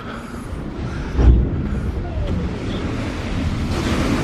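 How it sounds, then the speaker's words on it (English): Big storm waves crash and splash against the harbour wall at Watchet, with one heavy thump standing out amid a steady roar of surf and gusting wind on the microphone. "Oh, that was a big splash in there."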